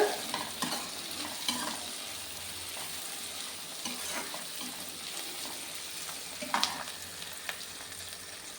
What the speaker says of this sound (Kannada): ಹಸಿಮೆಣಸಿನ್ಕಾಯಿನ ಹಾಕ್ಕೊಳ್ಳೋಣ ಇದನ್ನು ಸ್ವಲ್ಪ ಫ್ರೈ ಮಾಡ್ಕೊಳ್ಳೋಣ